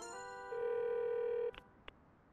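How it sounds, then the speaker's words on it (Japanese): Telephone in a Tayo little bus cartoon rings with a steady electronic tone for about a second, followed by two short clicks or beeps, with no talk. "あら、タヨから電話があったんだわ。"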